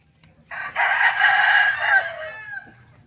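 A pure Gilmore gamefowl rooster gives one loud, close crow lasting about two seconds, rising and then trailing off, with faint background noise and no talking.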